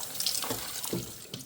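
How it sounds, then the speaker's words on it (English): Tap water streams into a pot over raw chicken being rinsed, a brief, soft, close splashing flow with no talking. "So now we're going to turn on some water up on top of it."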